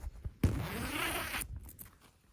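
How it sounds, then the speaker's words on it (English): A hoodie zipper is pulled open in one continuous, close rasping run lasting about a second, with quiet handling noise before and after. "Let's go ahead and unzip it."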